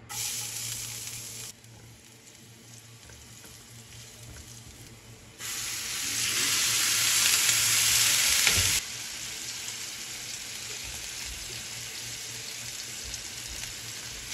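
Beef and garlic sizzle and fry in a pan that just cooked eggs, a steady broadband hiss that swells louder midway with stirring, then settles back to a constant sizzle.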